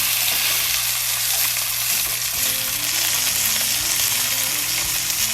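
Short ribs sizzling in a pan as they are flipped: a dense, continuous frying hiss throughout with faint low tones beneath it and no speech.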